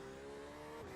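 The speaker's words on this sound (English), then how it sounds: "the engine noise of this Porsche is lovely" A Porsche GTE race car engine in iRacing at Spa-Francorchamps drones with a steady high-revving tone, faint and continuous, with no talking.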